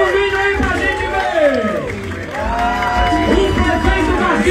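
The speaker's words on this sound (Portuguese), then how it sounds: "Vamos aplaudir!" A crowd claps and cheers at a public event in Cipó, Brazil, where a municipal market renovation is announced; loud, dense applause with voices and shouts over it, a speaker's voice carrying through.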